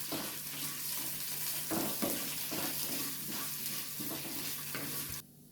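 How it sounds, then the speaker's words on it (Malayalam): Mustard seeds, green chilli, urad dal and chana dal fry in hot oil, a dense, continuous sizzle with crackling pops and occasional stirring scrapes, loud and close, cutting off abruptly near the end. "കടുകിട്ടു, പച്ചമുളക് ഇട്ടു, ഉഴുന്ന് പരിപ്പിട്ടു, കടലപ്പരിപ്പിട്ടു."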